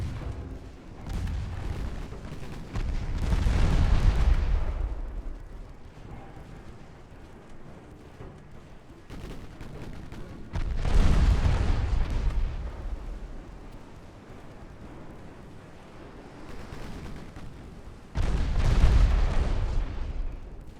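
Naval gunfire in a battleship engagement in Ultimate Admiral: Dreadnoughts, three heavy booming salvos spaced several seconds apart, each a deep rumbling blast that rolls and fades into low background noise.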